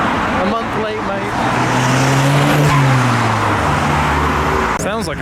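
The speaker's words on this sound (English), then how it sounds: "Sounds like a Subaru." A Subaru tuner car arriving at a car meet, its engine revving loudly and nearby with rising and falling pitch over a steady roar, voices talking over it and a brief crackle near the end.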